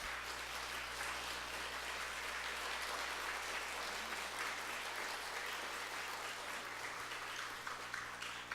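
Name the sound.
congregation applause in church service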